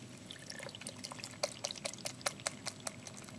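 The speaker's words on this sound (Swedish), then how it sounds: "man ska inte hälla med korken först, utan man ska hälla över den här kanten" Liquid poured over the edge of a container, not past its cap, splashing and trickling in uneven drips and spatters, close and moderate in level, with no talk over it.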